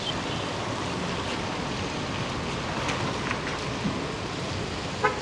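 Light rain falling outdoors in Singapore, an even, continuous patter and hiss with a few slightly louder drops, steady throughout and without voices.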